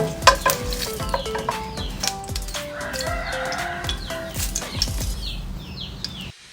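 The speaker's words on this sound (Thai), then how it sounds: "ไปก็ทอดพริกค่ะ ดูว่ามันกรอบแล้วหรือยังนะคะ" Chili peppers frying in hot oil in a wok, with a steady close sizzle, crackling pops and scraping stirring strokes that run under the whole clip before fading out at the end.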